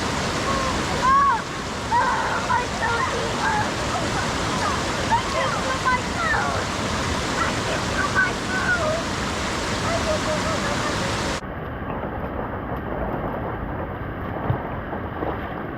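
A mountain wilderness river rushes past rocks in a continuous broadband roar, mixed with gusts of wind buffeting the microphone; the flow stays steady and loud, then turns duller near the end.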